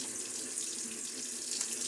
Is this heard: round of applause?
no